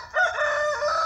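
Free-range chickens at feeding time, with one rooster crowing loud and close in a single drawn-out call, no talking over it.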